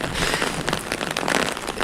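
Heavy rain pours down in Chandigarh, a dense steady hiss of drops pattering on surfaces with no pauses.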